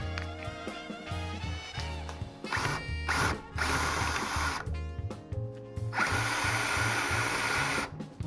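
A step drill bores holes through metal plates for a Madcatz TE2+ arcade stick HitBox conversion, whining in several bursts separated by short pauses, close and loud with no talking.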